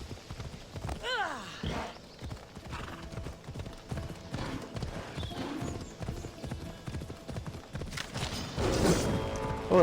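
Horse hooves clip-clop in a steady walking rhythm in the video game Assassin's Creed Odyssey, close and moderately loud, with a brief whinny early on and game sounds rising near the end.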